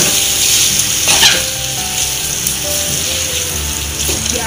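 Sausage and spaghetti frying in a pan for spaghetti carbonara, a steady loud sizzle with scraping stir noises and brief bursts, no talk.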